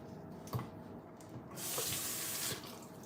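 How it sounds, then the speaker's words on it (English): Spinach being rinsed under a running kitchen tap during eggplant Parmesan preparation, a steady close water hiss that swells louder midway, with a few soft handling knocks. "I'm going to rinse this in the water"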